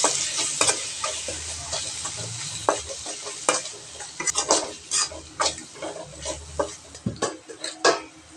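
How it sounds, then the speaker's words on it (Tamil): A spoon stirs a small amount of turmeric powder into a frying chicken curry base, giving repeated scraping clatters against the pan over a bubbling sizzle in an uneven rhythm; no speech. "அடுத்து மஞ்சள் தூள் கொஞ்சம் சிறிதளவு போட்டு ஒரு மிக்சிங்."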